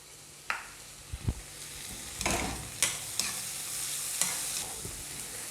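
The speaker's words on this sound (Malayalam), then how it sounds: "അതുകൂടി ചേർത്ത് നമുക്കൊന്ന് വഴറ്റിയെടുക്കാം" Chopped ripe tomato sautéing in a pan for egg burji, a low sizzle broken by several sharp spatula scrapes and stirs at irregular intervals, close up and without speech.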